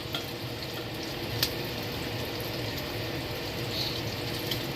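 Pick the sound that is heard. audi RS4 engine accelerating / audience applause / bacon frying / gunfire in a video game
bacon frying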